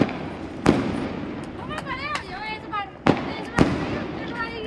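Diwali firecrackers bursting in a village, three sharp loud bangs spread across a few seconds with crackling between them, while people talk and shout nearby.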